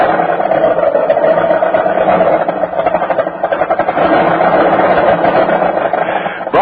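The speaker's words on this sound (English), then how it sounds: "Bucking and sputtering like that is a pretty unpleasant way to start off the day" A car engine bucks and sputters on a cold winter start, an uneven chugging rumble with a rapid rattling pulse, steady and fairly loud, heard alone on an old lo-fi broadcast recording.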